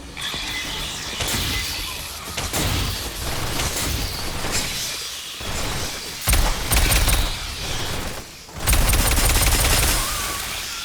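Automated sentry gun in the game Aliens: Fireteam Elite fires loud sustained bursts, a rattling fusillade with crashing impacts that pauses briefly and then surges again.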